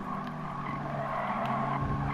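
A mid-engine Italian sports car races in Gran Turismo Sport, its engine droning steadily with a tire squeal and skid noise layered over it, moderately loud and continuous with no talk.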